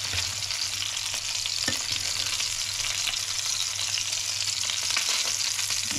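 Salmon fries in a pan with a steady, dense crackling sizzle, moderately quiet and close, continuing evenly with no talk.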